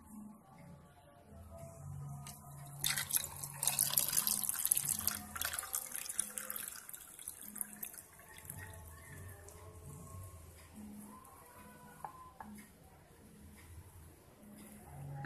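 Soda water poured slowly into a glass for iced milk soda, a soft running liquid pour that swells in the middle and tapers off, close and fairly quiet.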